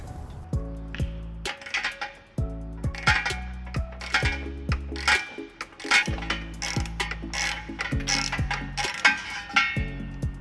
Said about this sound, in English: We're going to be using a 15mm socket and an 18mm socket.